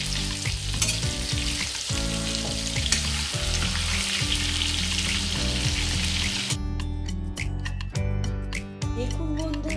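Lote fish in a besan coating fries in a pan over a medium-high flame, a dense continuous sizzle and crackle close up, with background music, partway through the fish being turned.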